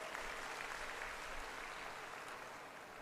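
Crowd at a Maharashtra government development event clapping together in a steady, dense burst, heard from some distance and fairly quiet, continuing evenly throughout.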